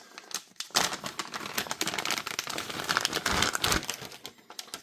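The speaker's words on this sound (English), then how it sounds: "Go ahead and crack open a Ziploc bag" A plastic Ziploc bag holding a Polish AK Type 2 bayonet is pulled open, with loud, close crinkling and crackling of plastic that comes in dense bursts for several seconds.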